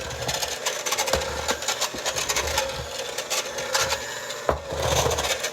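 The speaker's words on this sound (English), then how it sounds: "Do you hear the noise my mixer's making?" An aging stand mixer kneading cinnamon roll dough, a continuous whirring motor drone with rhythmic scraping and knocking thumps as the dough slaps against the bowl, steady and close.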